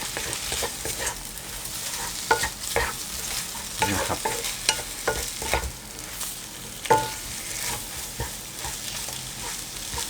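Glass noodles with seasoning are stir-fried in a pan, a continuous sizzle broken by frequent scraping and tossing strokes of a spatula, close and steady throughout.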